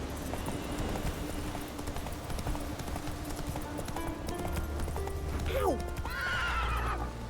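A horse in The Witcher 3 whinnies twice near the end, with a rising, wavering call over constant game music and ambience, while hoof clip-clop runs faintly underneath.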